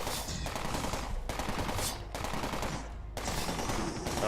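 A BLP laser weapon in the online game Entropia Universe fires in loud, rapid automatic bursts, three or four close volleys separated by short gaps.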